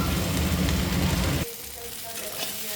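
Tomatoes and two cashew nuts frying in a pan for chana paneer masala: a dense, close sizzle for about a second and a half, then dropping to a much quieter, sparse crackle.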